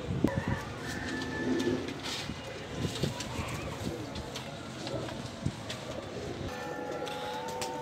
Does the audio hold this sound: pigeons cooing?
yes